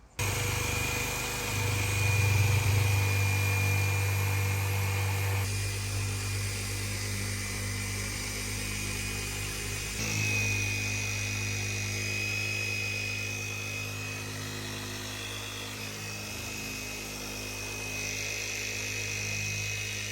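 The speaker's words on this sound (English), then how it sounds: "It's going to vibrate like crazy, making all the dirt jump up out of the carpet" A loud vibrating carpet cleaning machine drones continuously at close range, a steady mechanical hum with a slight shift in pitch partway through.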